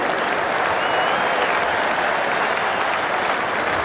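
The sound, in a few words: standing applause from Lord's cricket crowd for Andrew Flintoff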